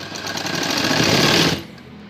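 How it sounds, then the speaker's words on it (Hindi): A sewing machine stitches along a fabric edge in one fast, buzzing run of rapid needle strokes. It lasts about a second and a half, then stops abruptly into quiet. "और यहाँ किनारी पे सिलाई लगानी है।"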